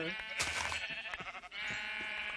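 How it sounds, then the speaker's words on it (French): Sheep bleat repeatedly in the Minecraft video game, a cluster of close, fairly loud wavering calls that overlap across the short stretch with no talking. "j'ai décimé la population de moutons"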